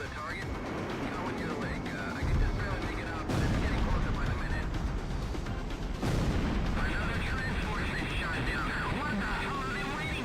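Machine gun fire in the flight combat game Ace Combat X, heard as dense continuous rattling bursts mixed with jet and explosion noise, loud and sustained, broken into several long stretches.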